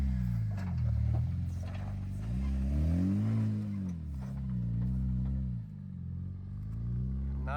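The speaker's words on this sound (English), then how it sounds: "Now the Tank500 Petrol going up with a bit more pace, and on a dry day like this you can easily tell with the dust going everywhere" A GWM Tank 500 petrol SUV climbs a dry, dusty off-road track at Lerderderg, Victoria, its engine droning loud and close throughout, the pitch rising and falling as it works up the slope, with no voices.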